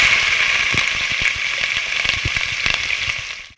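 Chopped onions frying in oil for vegetable pulao, with cardamom and cloves already in the pan, giving a steady close sizzle with crackling pops throughout, no talk, fading out at the very end.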